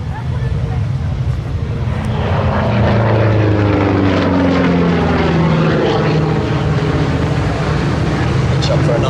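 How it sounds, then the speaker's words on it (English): A P-47 warbird propeller fighter making a high-speed pass at an airshow, a loud sustained engine roar with a sweeping pitch shift as it goes by, while a commentator talks over it. "Another nice high-speed pass from the right-hand side."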